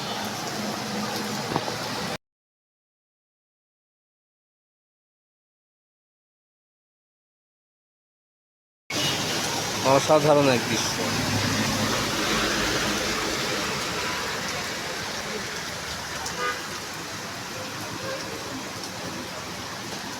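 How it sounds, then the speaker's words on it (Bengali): Steady, dense rain hiss fills the scene over Kushtia town, with a short gap of silence early on; a voice speaks briefly over the downpour. "অসাধারণ এক বৃষ্টি কুষ্টিয়া শহর জুড়ে"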